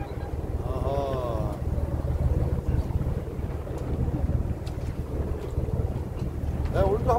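Strong wind buffets a fishing boat drifting at sea, a constant low rumble and gusting noise across the microphone with faint water movement and the boat's hull sounds underneath.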